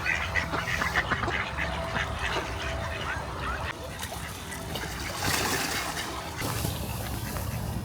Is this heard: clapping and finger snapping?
no